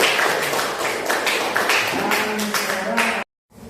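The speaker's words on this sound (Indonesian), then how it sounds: "tepuk tangan dulu untuk Papua" Fourth-grade classroom pupils clapping for the Papua group, a dense, loud patter of many small hands with voices mixed in, continuing for about three seconds before cutting off abruptly into silence.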